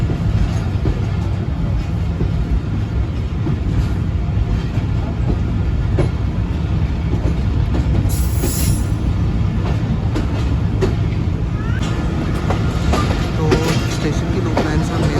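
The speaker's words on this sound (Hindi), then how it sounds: "स्टेशन की लूप लाइन से मेन लाइन पे हमारी ट्रेन जा रही है।" Pakistan Express passenger train moving from a station loop line onto the main line, with a loud, continuous rumble and rail clatter throughout and a brief high squeal partway through.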